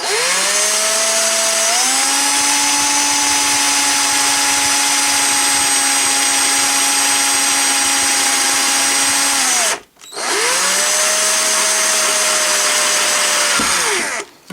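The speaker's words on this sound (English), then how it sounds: "let's drill a hole in here for mounting the light" A power drill drilling a hole in plastic whines steadily at high speed for about ten seconds, pauses briefly, then spins up again for a few more seconds; loud and close.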